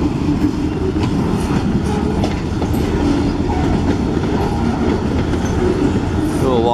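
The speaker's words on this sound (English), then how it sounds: "Just happened to hear the train coming about. Looks to be a pretty long one." A long freight train on the Escanaba and Lake Superior Railroad in Michigan rolls past close by, with a loud continuous rumble, wheel clatter and faint squeals, steady throughout.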